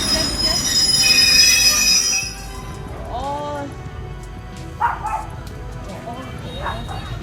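Metal train wheels squeal loudly on active rails at a crossing, with a bright, steady screech for about two seconds before it drops away, leaving rumbling rail noise and a few faint, scattered sounds.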